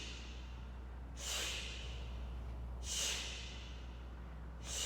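Three forceful vocal exhales during a yoga push-up, each a breathy rushing puff about two seconds apart, close and clear over a low steady hum, with no talk.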